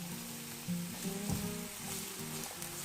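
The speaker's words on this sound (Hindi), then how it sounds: "एक फ्राइंग पैन में मैं 2 टेबल स्पून ऑयल है वो ऐड कर रही हूँ। अब इसमें मैं 1 अनियन चॉप किया हुआ वो ऐड करूँगी" Chopped onion sizzles steadily in about two tablespoons of hot oil in a frying pan, a quiet, continuous frying hiss with faint stirring scrapes and no talking.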